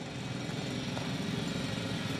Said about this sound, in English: It's a drill.